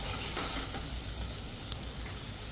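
Ground masala paste sautéing in hot oil for a homemade okra (bhendi) masala, a steady, even sizzle and crackle that holds throughout with no voices.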